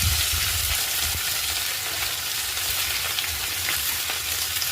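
Five kinds of mixed vegetables fry in hot oil in a pan, a steady, dense sizzle and crackle heard close up without any talk.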